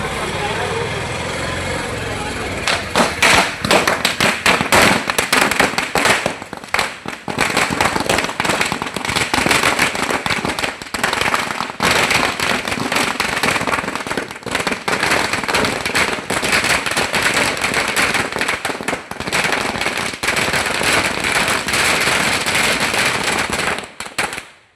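Firecrackers burst in rapid, dense volleys of loud, close cracks and bangs at a political victory celebration in Thalassery, nearly continuous for about twenty seconds.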